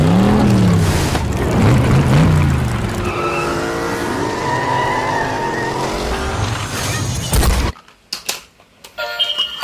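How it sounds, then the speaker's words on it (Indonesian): A Lightning McQueen car drives and skids in a Spider-Man video game, with loud close engine revving, tire squeal and skidding that swoop up and down for several seconds before cutting out abruptly into quieter game sounds. "mobil McQueen"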